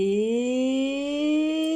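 A person's voice holds a long, rising, howl-like tone, imitating a dog.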